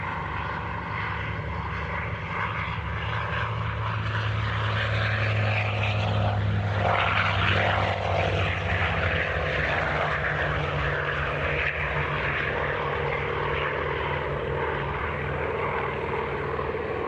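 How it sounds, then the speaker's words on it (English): Hawker Fury and Grumman F8F-2P Bearcat piston-engine fighters roll for takeoff at an air show, a steady, droning propeller roar that swells and lingers, heard from some distance with no talk. "two of the ultimate in piston engine fighter designs, and just starting their takeoff roll now, the Hawker Fury and the Grumman F8F 2P"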